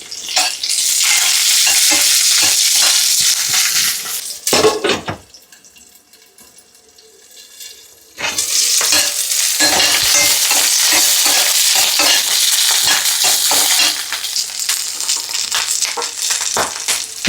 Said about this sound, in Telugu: ఇప్పుడు పచ్చిమిర్చి కాస్త వేగగానే వెల్లుల్లిపాయలు వేసుకున్నాము, తెల్లగడ్డల్ని.